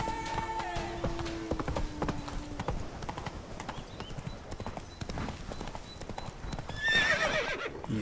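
Roach the horse galloping in The Witcher 3: Blood and Wine, with steady rhythmic hoofbeats close by and a sharp neigh near the end, while someone talks over the sound.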